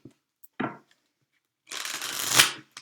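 A Halloween-themed tarot deck being shuffled close by: a short riffle, a pause, then a longer rising riffle of cards that ends abruptly.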